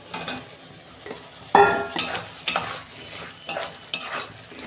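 Potatoes tipped into a frying soybean curry and stirred, heard as wet sizzling under repeated scraping strokes of a spoon against the pan, close and fairly quiet.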